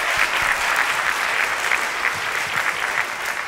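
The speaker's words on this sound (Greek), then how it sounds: "Σε αυτό το σημείο, δώστε μου ένα χειροκρότημα." A comedy show audience claps hard, loud and continuous, a dense wash of many hands that barely varies for several seconds.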